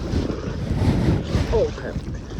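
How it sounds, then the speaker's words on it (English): Kayak paddling through water, with steady splashy swishes and wind rumble on the microphone, close and continuous. "and now I paddle"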